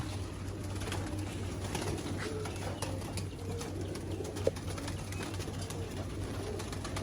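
Several racing pigeons coo softly and continuously outdoors while waiting for their evening feed, with a low steady hum and faint scattered clicks behind them.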